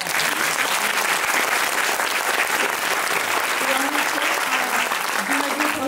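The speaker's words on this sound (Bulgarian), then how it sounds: "Специални аплодисменти за Ники." A theatre hall audience breaks into loud, sustained applause, a dense wall of clapping that holds steady throughout, with some voices mixed in beneath.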